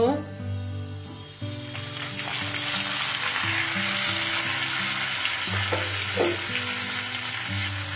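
Eggplant and potatoes fry in a hot pan with a steady, close sizzle, a spoon occasionally scraping and stirring, and a faint low hum underneath; no voices.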